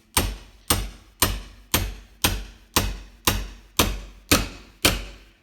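Ten evenly spaced hammer blows ring out as a bearing is driven into a Stihl MS180 chainsaw crankcase on a bench, each strike sharp and close with a short decaying ring.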